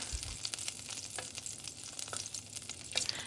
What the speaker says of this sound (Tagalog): iprito lang for 2 to 3 minutes or hanggang maluto